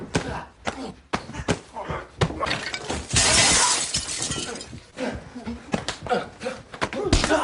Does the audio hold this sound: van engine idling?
no